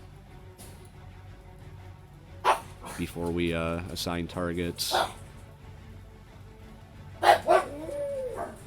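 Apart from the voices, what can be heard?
dogs barking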